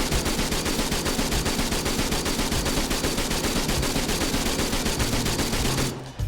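Rapid, sustained rifle fire in Arma 3, a marksman weapon firing shot after shot in a steady fast rhythm for several seconds, loud and dense, cutting off abruptly at the end, with no voices.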